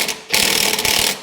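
A ratchet wrench clicks rapidly as 1/2-inch bolts are tightened on a snowblower's belt guide, a short, loud, close burst of ratcheting after a brief pause.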